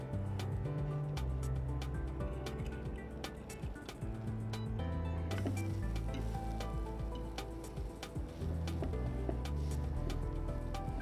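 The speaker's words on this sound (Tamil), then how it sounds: "ஸோ இது நல்லா வந்து கோல்டன் கலர் நல்லா ஃப்ரை பண்ணணும்" A savoury breakfast snack fries to golden in a pan of oil, giving a steady, even sizzle with light stirring. The frying runs continuously beneath background music, and no one speaks.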